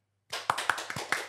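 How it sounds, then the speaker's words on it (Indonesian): A handful of hands clap in a quiet room after a brief silence, about seven crisp, evenly spaced claps close by with no talk over them. "Tepuk tangan."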